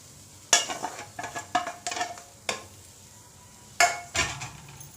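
Grated fresh coconut stirred and dry-fried in a nonstick pan: a spoon scrapes and taps against the pan in irregular strokes over a faint low sizzle, close and clear, with no talking.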